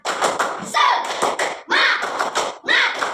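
A class of students claps in a quick rhythmic pattern, bursts of hand claps mixed with chanted voices, repeating in short phrases.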